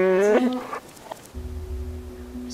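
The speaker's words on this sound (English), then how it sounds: "That's just my phone on vibrate." A mobile phone set to vibrate buzzes at night as a low steady hum with a faint tonal whine, following a brief voice and standing alone for over a second.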